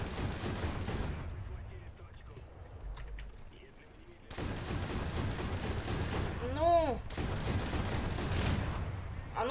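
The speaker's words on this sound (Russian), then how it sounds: "Она еще и бомбу скинула." A bomb dropped by a Bf 110 plane bursts near a KV-1 tank in War Thunder: a broad, rumbling blast rises suddenly after a quieter stretch and leaves sustained noisy battle sound behind it.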